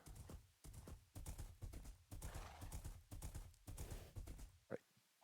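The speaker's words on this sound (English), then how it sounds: "Horse." Rhythmic hoof clip-clops of a horse in Minecraft, a steady series of close, clear steps ending in a brief neigh, heard alone without talk.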